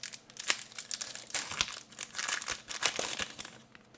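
Crinkly plastic wrapping rustles and tears as a Magic: The Gathering Fate Reforged booster pack is opened by hand, close and fairly quiet, with no voices.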